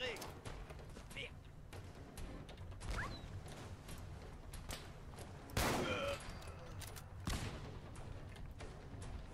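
Quiet bursts of gunfire against mercenaries in Fallout 4, with scattered shots and a sharper louder report partway through, mixed with creaks and mechanical noise and someone speaking French over the top.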